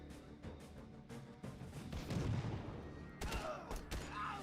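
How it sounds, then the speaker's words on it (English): Rocket launcher fire in a video game: a run of loud blasts and booming explosions, several separate bursts spread across the stretch with rumbling tails between them. "It's rocket launcher time."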